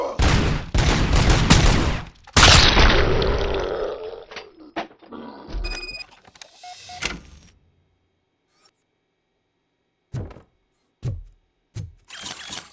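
Video game gunfight in a video store in RoboCop Rogue City: loud bursts of rapid gunfire for a couple of seconds, then scattered mechanical clanks and isolated shots separated by silence.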